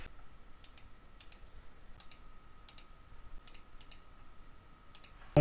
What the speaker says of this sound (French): Donc là, on rentre son adresse de messagerie